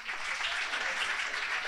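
A brief burst of audience applause at a students' finance panel, many hands clapping in an even, sustained wash without speech.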